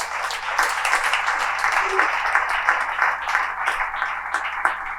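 A church congregation claps together in praise to the Lord during a Spanish-language class on deacons, a steady rippling applause lasting several seconds with faint voices mixed underneath.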